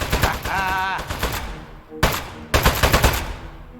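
Rapid bursts of gunfire in the video game Aperture Desk Job rattle out in several clusters, loud and close, separated by short gaps, with a brief warbling electronic tone early on.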